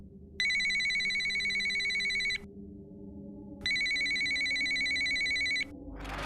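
A telephone bell rings twice, each bright, loud trill lasting about two seconds with a short gap between, over a quiet room hum.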